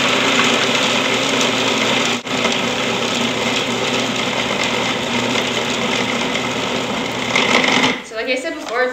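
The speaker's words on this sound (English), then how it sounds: "So I'll start processing again." A food processor whirs steadily while blending a chocolate ice cream mixture, a loud continuous motor drone with one brief dip, stopping near the end as a person starts talking.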